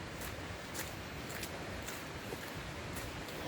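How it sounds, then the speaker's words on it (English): Steady broadband rush of stream water near a waterfall on a wooded hike, continuous and even with no voices, faint higher hiss running throughout. "With that water running in the background."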